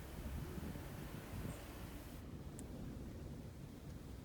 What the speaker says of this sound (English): Can you hear that wind?